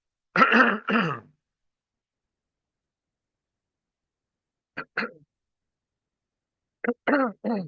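A voice clears its throat twice up close, then after a long silence gives a few short coughs and throat-clearing sounds.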